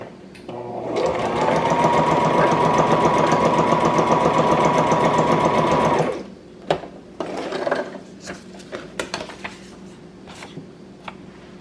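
A Brother XR3774 sewing machine stitches a zigzag at a short stitch length, running loud and steady for about five seconds before stopping. Scattered clicks and handling knocks follow.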